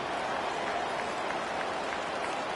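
Dense, steady roar of a large stadium crowd at an LSU football game, a constant wash of noise with faint scattered claps and cheers, no single voice standing out.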